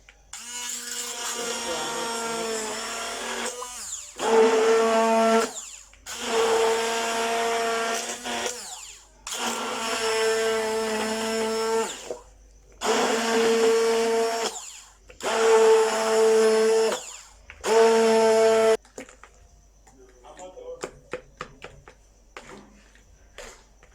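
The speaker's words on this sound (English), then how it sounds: "we have to whisk it together with our stick blender" A stick blender whips homemade body cream ingredients in steady motor bursts, about six runs of loud whirring separated by short pauses, then stops and leaves faint clicks and handling sounds.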